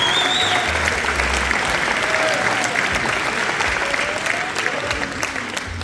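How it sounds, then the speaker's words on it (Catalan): Loud, dense applause from a festival crowd at the Festa Major de Gurb celebration, sustained evenly throughout with slight tapering toward the end and a few voices mixed in. "Un fort aplaudiment"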